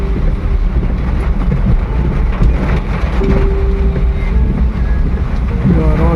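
A car drives along a flooded road in heavy rain, its tyres hissing and sloshing through standing water over a steady engine drone, with wind buffeting the microphone throughout.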